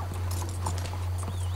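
Horse hooves clip-clop in Red Dead Redemption 2 around the city of Saint Denis, a light run of soft hoof knocks over a steady low hum, with faint background sounds.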